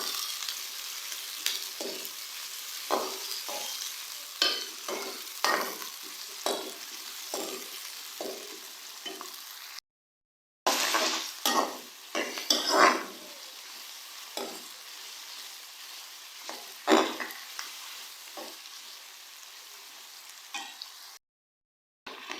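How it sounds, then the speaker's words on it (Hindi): Two medium onions fry in oil in a karahi, turning golden, with a soft continuous sizzle broken by repeated stirring scrapes and clatters; two short silent gaps interrupt, and no one speaks. "अब मैं इसमें ऐड कर दूंगी 2 मीडियम साइज़ के प्याज।"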